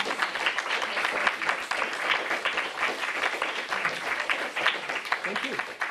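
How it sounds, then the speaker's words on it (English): A university lecture audience applauds speaker Greg, dense sustained clapping throughout, with a voice partly audible over it. "Can we, like, applaud for Greg?"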